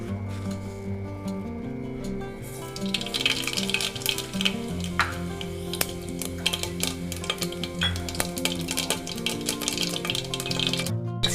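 Mustard seeds splutter in hot oil, a dense crackle of sharp pops over a steady sizzle that grows busier after the first few seconds, heard close with background tones beneath.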